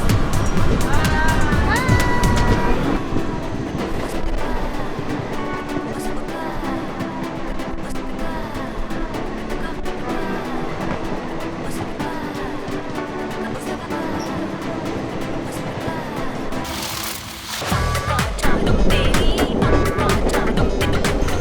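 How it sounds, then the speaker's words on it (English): An Indian passenger train runs just after leaving New Delhi station, with a loud, steady rumble and rattle that carries on throughout. A murmur of voices sits underneath, and the noise dips briefly near the end before it returns. "We just pulled out of New Delhi station on the Indian trains."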